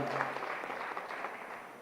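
A crowd at a Congress party joining rally in Adilabad claps to welcome a village sarpanch couple and new members, giving a brief, fairly quiet patter of applause with no talk over it.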